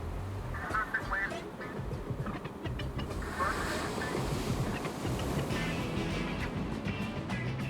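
Ocean surf at a Fiji island during the ASP Fiji Pro 2000 surfing contest: a steady, broad wash of breaking waves and wind that fills the whole stretch without pause.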